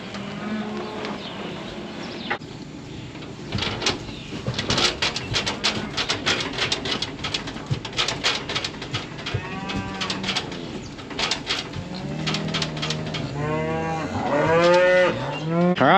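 Cows gathered at a farm gate moo loudly and repeatedly for their calves, several overlapping drawn-out bellows close by, with some rattling and birds in the background.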